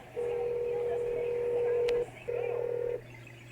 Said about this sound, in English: so I'm going to give Noah a wake-up call